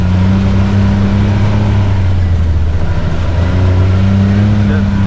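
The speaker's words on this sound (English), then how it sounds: "The triple just has a very smooth sound" CFMOTO Z10 triple-cylinder engine running with a steady, smooth, loud drone, the low hum holding at a constant pitch close by, with a voice talking faintly underneath.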